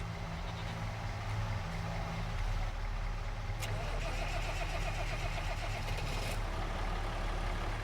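A tractor diesel engine in Farming Simulator 25 starts and runs with a low, steady rumble, with a sharp click about midway and the engine note continuing at moderate, even level.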